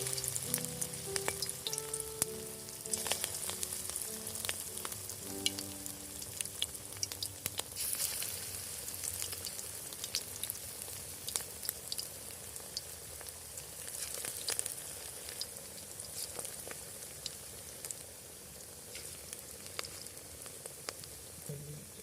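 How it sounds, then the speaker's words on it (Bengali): Small shrimp fritters frying in hot oil in a pan over a clay village stove, a steady close sizzle and crackle with occasional spatula scrapes throughout, no talk. "তেল গরম হয়ে গেছে, এবার বড়াগুলো ছেড়ে দিলাম আস্তে আস্তে।"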